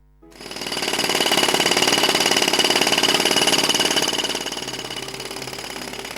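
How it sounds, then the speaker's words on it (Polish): A loud, rapid pounding of a jackhammer starts abruptly at a highway construction site and hammers steadily, then eases slightly as heavy machinery engine noise continues nearby. "Teraz sprzęt ciężki, maszyny i samochody."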